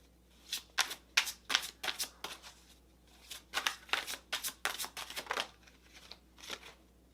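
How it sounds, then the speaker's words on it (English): Tarot cards shuffled and drawn by hand, a run of quick papery riffles and slaps in bursts with short pauses, close and fairly quiet over a low steady hum. "I'm going to get one more card here."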